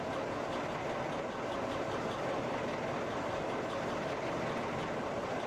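A regional train departs in the Train Simulator Classic video game, a steady, dense rumble of rolling wheels and rail noise that holds at an even, fairly loud level throughout.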